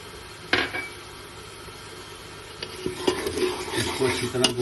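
Ground spices, garam masala, black pepper and turmeric, sizzle and scrape in a pan for fish gravy as a spoon stirs them, with a few sharper clinks of utensil on metal over a steady frying hiss.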